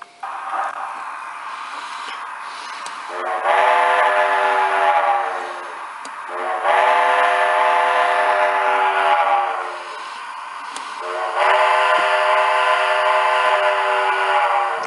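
Tiny isobaric double cell phone speaker playback test, thin tinny audio, a sustained horn-like tone, sounding in three long swells with short dips between them, moderately loud with no talking.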